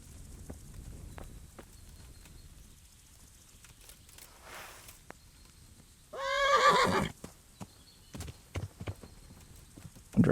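A horse in the video game Kingdom Come Deliverance gives one loud, close whinny, with scattered hoof clops and soft footsteps before and after it.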